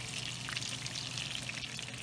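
Food frying for Kashmiri rogan josh, a dense, even crackling sizzle from the pan, close and steady for about two seconds with no talk.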